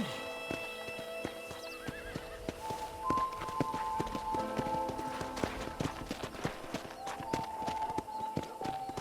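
Hooves clip-clop steadily as a horse is ridden at a walk around a ranch in the video game Red Dead Redemption, with neighs and whinnies, a game music tone and a brief voice in the mix.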